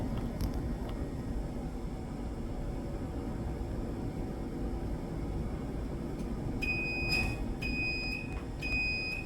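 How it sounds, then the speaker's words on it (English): A steady low machinery rumble fills the scene, then a high-pitched alarm beeps in three evenly spaced pulses near the end, a tank overflow alarm. "Now the alarm's ringing, the tank's overflown."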